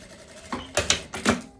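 Sewing machine stitching over a pocket on a linen garment, a short burst of quick mechanical clatter from a few rapid stitches, close and fairly quiet.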